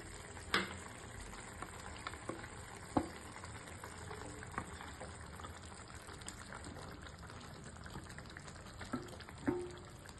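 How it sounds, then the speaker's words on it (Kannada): Egg masala gravy simmering on a low flame, a soft continuous bubbling and faint sizzle with a few small pops and clinks, no voices. "ಲೋ ಫ್ಲೇಮಲ್ಲಿ 5 ಮಿನಿಟ್ಸ್ ಚೆನ್ನಾಗಿ ಬಾಯ್ಲ್ ಮಾಡಕ್ಕೆ ಬಿಡ್ತಾ ಇದ್ದೀನಿ."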